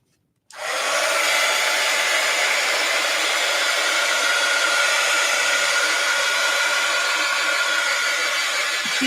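A hair dryer blasts on after a brief silence to dry paint on an art piece, a loud, steady, broadband whoosh that holds unchanged to the end with no talk.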